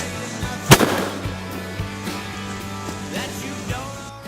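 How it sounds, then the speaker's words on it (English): A single loud, close rifle shot at a doe during a deer hunt in Virginia, a sharp crack near the start that rings out over quiet outdoor background, followed by a few faint pops and knocks. "right before I shoot this doe."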